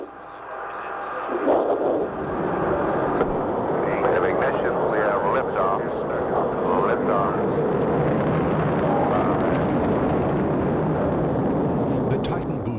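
A rocket lifts off carrying the unpiloted Gemini 2 spacecraft, a sustained roaring rumble that swells and holds steady, with a narrator speaking over it.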